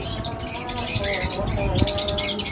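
Lovebirds, high-mutation breeding pairs, chirp in quick, bright bursts at a bird sale, steady and close over a low background hum while someone talks through much of it.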